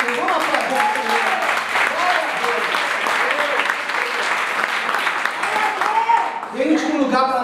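A church congregation at a Brazilian worship service applauds loudly and continuously, dense clapping beneath a preacher's voice and the murmur of the crowd throughout.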